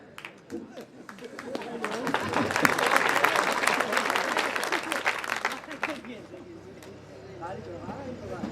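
Audience applause at a Hindi poetry recital (kavi sammelan), a dense wash of clapping that swells over the first few seconds, holds steady, then thins out toward the end with some chatter mixed in.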